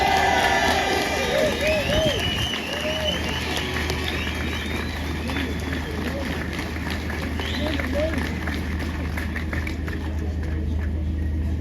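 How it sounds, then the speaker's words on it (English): Crowd at a farmers' tractor rally in Westminster, London, cheering and applauding loudly at first, then the noise settles into a steady outdoor murmur of voices and shouts with a low engine rumble beneath. "Another big round of applause for Ollie there."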